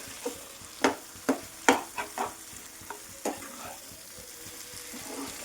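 Cauliflower egg masala curry frying on a high flame, a steady sizzle broken by repeated scraping strokes of a spoon stirring in the pan, close and fairly loud with no talk.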